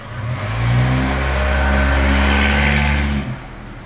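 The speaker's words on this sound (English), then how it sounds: "my mail truck is going by at this moment" A mail truck engine drones loudly as it rolls past nearby, rising then holding steady before cutting off abruptly.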